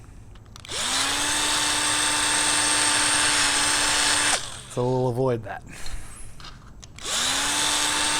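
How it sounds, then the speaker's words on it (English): A power drill bores holes up to number 40 size in an RV-10 aircraft fuselage: a loud, close, steady whine runs for several seconds, stops for a brief spoken remark, then starts again near the end. "So right now I'm just doing some final drilling to bring these holes up to number 40"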